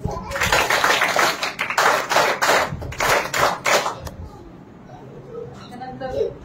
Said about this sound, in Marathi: त्यांचे आपण 3 टाळ्या वाजवून स्वागत करतो.